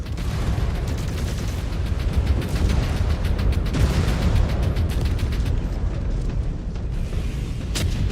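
Missile explosions from the Mechwarrior 5: Clans video game, a continuous loud barrage of booms and bursts rumbling together for the whole stretch with no pause and no speech over it.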